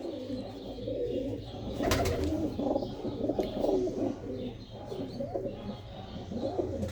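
Pigeons coo repeatedly at close range in a home loft, soft throaty calls overlapping in an irregular rhythm with a few light chirps, no voices present.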